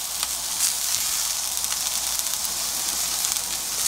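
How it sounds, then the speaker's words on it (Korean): Red cabbage and mushrooms stir-frying in a hot pan give a steady, close, loud sizzle and hiss with faint scraping from stirring, continuous throughout. "붉은 양배추도 볶다가요, 소금 약간 넣으시고, 자, 버섯 약간 넣습니다."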